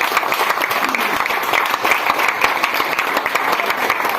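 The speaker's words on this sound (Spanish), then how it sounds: "Y aplauda al Señor." Church congregation applauding at a Sunday worship service, steady dense clapping from many hands filling the whole stretch at an even, close level.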